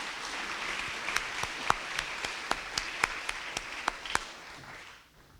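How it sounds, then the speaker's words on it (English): Applause for Timothy Stevens at a Putnam County School District Teacher of the Year ceremony, a steady wash of clapping from a room of people with a few sharp, close claps standing out, fading away after about five seconds. "let's give a round of applause to Timothy Stevens as he comes up"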